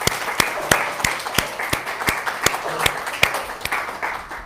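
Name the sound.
audience applause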